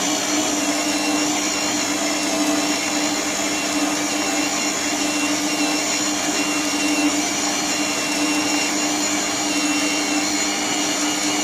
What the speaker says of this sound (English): that the food processor mixes the dough